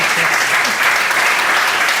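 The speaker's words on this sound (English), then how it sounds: "Shall we not give them an applause?" A crowd claps steadily and loudly at a conference demo stage, a dense burst of applause filling the room.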